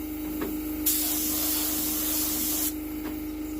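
A paint spray gun hisses out satin black paint onto a John Deere 115 lawn tractor, a steady close burst of about two seconds, with a shorter puff before it and another after.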